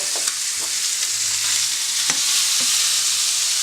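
Pork sizzling in a pan as it is turned to crisp on all four sides, a steady bright frying hiss with a few soft clicks and scrapes of stirring, close and without talk.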